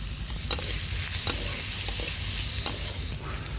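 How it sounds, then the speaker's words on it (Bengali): Fish and turmeric fry in a pan with a steady, close sizzle. Scraping strokes from stirring come through at intervals, and no voices are heard. "এখন সবগুলো ভালোভাবে একটু ভেজে নেব।"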